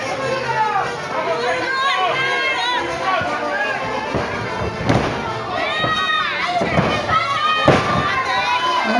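At a lucha libre wrestling show, a lively crowd cheers and shouts with thumps and claps mixed in, busy and continuous around ringside, with voices chattering throughout.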